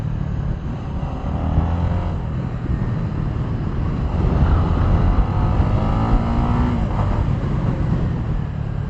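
A Honda WinnerX150 underbone motorcycle engine runs steadily under riding conditions, a continuous low drone with wind rush over the microphone and no talk.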